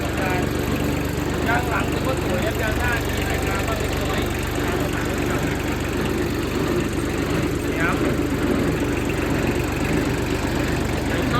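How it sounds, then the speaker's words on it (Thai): A Kubota four-wheel-drive tractor fitted with a grass-cutting attachment runs its engine in a loud, continuous drone throughout, with someone speaking over it. "นี่เนี่เล่นเครื่องครับ งานแบบเบาๆครับ นิ่มๆเครื่องดีครับ"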